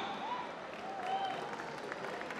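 Steady audience applause at a comic book launch event honoring wrestler Dara Singh, welcoming a singer, a continuous moderate wash of clapping from a crowd indoors.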